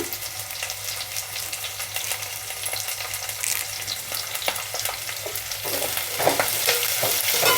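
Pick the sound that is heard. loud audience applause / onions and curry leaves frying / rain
onions and curry leaves frying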